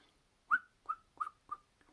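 A person whistles on the inhale to imitate a bird, giving four short rising chirps followed by a faint fifth, evenly spaced and quiet, with no other sound around them.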